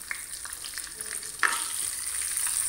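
Spices including fenugreek and carom seeds are stirred in hot oil in a pan for arbi sabzi, a soft hiss with light scraping taps, then a sudden louder sizzle that holds to the end, with no talk.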